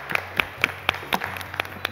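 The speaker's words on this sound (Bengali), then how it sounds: "একটা হাততালি প্লিজ" A small studio audience at a children's quiz show gives a brief round of scattered, fairly quiet clapping, with a dozen or so distinct claps over two seconds.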